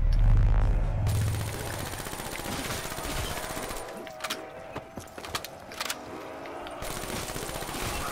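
Call of Duty Black Ops III VMP submachine gun fire in Zombies mode: quick bursts of rapid, crackling shots ring out over a busy mechanical background, moderately loud and spread through the middle of the stretch.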